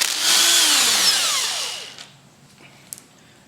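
An impact wrench with a 14mm socket zaps a motorcycle rear shock nut off in one burst of rattling whir lasting under two seconds, followed by quiet clinks.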